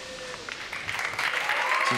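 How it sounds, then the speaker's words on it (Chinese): Audience applause at a televised singing competition show, a short burst of clapping swelling in over a faint voice and music. "掌声鼓励。"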